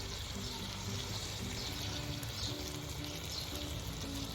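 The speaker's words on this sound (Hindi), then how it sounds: "अब इसमें ये टमाटर जिसको ग्राइंड करके रखा था वो डाल दीजिए" Ground tomato pours steadily into a hot pan for mutton curry, giving a continuous hissing, sizzling wash with a faint tonal murmur underneath.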